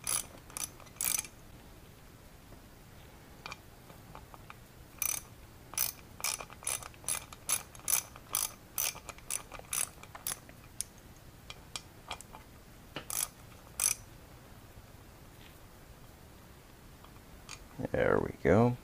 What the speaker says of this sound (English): start getting this screw out